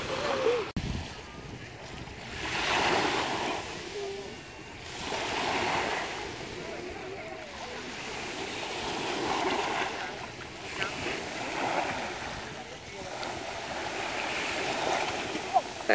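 Mediterranean sea waves wash in and recede on a white-sand beach at Cannes in slow, rolling surges, with a constant windy hiss over the shore and no other prominent sounds.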